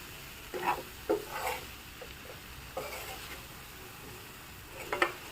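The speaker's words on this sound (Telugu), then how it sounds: "ఇది మొత్తం ఒకసారి మళ్ళీ కలిపేసుకోవాలి మసాలా పొళ్ళన్నీ కర్రీ అంతా బాగా కలిసేలాగా కలుపుకోవాలి" A spoon stirs jackfruit seed masala gravy curry in a pan, giving a few soft scrapes and brief clinks spread apart, faint and close with a quiet background hiss.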